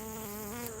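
A honey bee buzzes close by in a backyard hive area, a steady near, loud drone with a clear harmonic hum that wavers slightly as it hovers.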